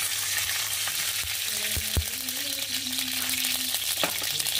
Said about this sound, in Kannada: ಕಡಲೆ ಹಿಟ್ಟು ಹುರ್ಕೊಂಬರ್ತೇನೆ